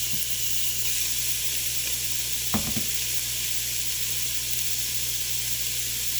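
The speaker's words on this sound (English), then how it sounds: "And you can hear that lovely sizzle." Loud, constant sizzle of beef browning in small batches in a pressure cooker pot, with a brief clatter of stirring midway; no voices.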